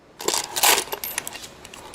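Coins drop and clink together in a short, bright jingling burst, close by, with a few lighter metallic taps trailing off.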